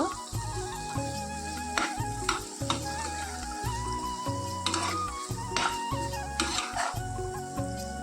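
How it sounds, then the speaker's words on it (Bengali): Spices being stirred into a pan while cooking, with a loud steady sizzle and irregular scraping strokes of the spoon, close and continuous without any talk. "এখন সব মশলা দিয়ে দিয়েছি রুটির মধ্যে এখন একটু নেড়ে চেড়ে নেব"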